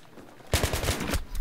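Rapid bursts of machine gun fire in a Battlefield 3 multiplayer match are loud and close, a fast string of about six or seven shots cracking out after a quiet moment.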